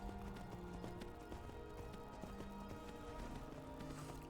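Quiet, steady clip-clop of horse hooves at a trot, faint and continuous against a busy background, in the video game Skyrim.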